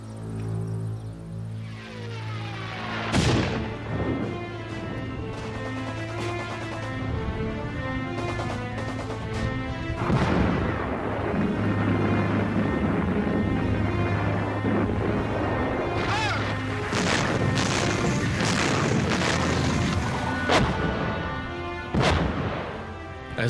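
Artillery guns fire ahead of the 1944 Canadian assault into the Liri Valley, heavy booms thudding at irregular intervals under a sustained droning musical score, distant and rumbling rather than sharp.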